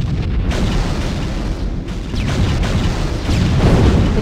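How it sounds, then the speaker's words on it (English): Loud, continuous rumbling explosions in the Halo video game as the Covenant destroy escaping life pods, with booming blasts building in intensity across the stretch. "The Covenant are destroying the life pods."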